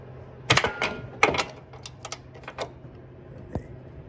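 A ratchet turns a bolt on the strut brace of a Cadillac CTS, giving a few quick bursts of sharp metallic clicks separated by pauses, close and dry.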